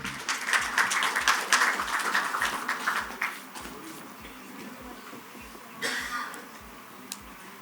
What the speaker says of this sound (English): Can we have a huge round of applause for him, everyone?